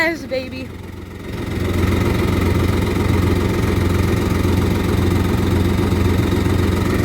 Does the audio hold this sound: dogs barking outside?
no